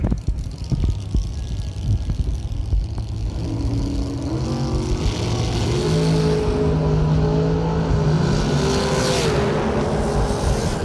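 A Corvette drag racing down the strip at a Christmas bash event, loud engines roaring and climbing through gears with rising whine, close and continuous.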